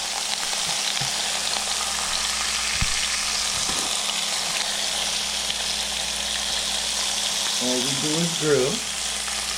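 Baby back ribs grilling on a George Foreman grill hiss with a steady, dense sizzle, a few light clicks early on and a brief voice murmuring near the end.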